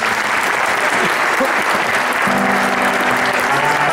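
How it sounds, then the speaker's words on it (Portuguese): Audience applause at a community wind band's concert performance in Portugal, a dense sustained clapping from a large crowd filling the hall throughout, steady and fairly loud with no talk over it. "Uma salva de palmas para ele."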